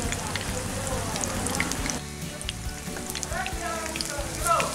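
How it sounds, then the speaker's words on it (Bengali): Stuffed Malabar spinach leaf fritters deep-fry in hot oil until browned. A dense, close sizzle runs throughout, easing briefly in the middle before crackling up again, with no talking. "এগুলোকে আমি বাদামি করে ভেজে নেব"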